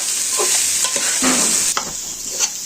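Rice for mutton biryani frying in a pan, a bright continuous sizzle broken by several scraping strokes of a spatula as it is stirred, no talking.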